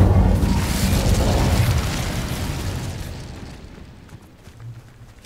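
An Incendio fire spell blast in Hogwarts Legacy, a loud close whooshing boom that roars, then fades over several seconds into a softer crackle.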